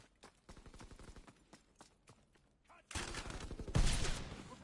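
Call of Duty WW2 gunfire rattles in rapid bursts of shots, moderate at first, then a pause, then louder, denser volleys with a heavy blast near the end.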